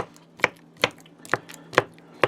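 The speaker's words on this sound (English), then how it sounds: "So that just makes a little bit more work of chopping it all up into one mess." A knife chops through banana on a board while banana bread is being made, five sharp separate strikes spaced roughly half a second apart, close and fairly loud, with no talking.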